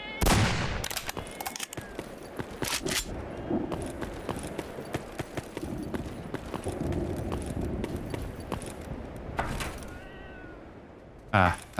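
Cat meowing in the video game Stalker Narodnaya Solyanka, a few cries heard amid a busy mix of gunfire-like bursts and game noise, with talk present, a clearer meow near the end.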